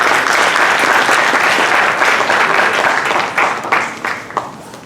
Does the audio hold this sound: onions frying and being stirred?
no